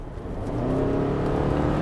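A 2022 Subaru Forester with a CVT transmission accelerates hard, its engine drone holding a steady, rising whir inside the cabin, moderately loud and continuous, with no talking.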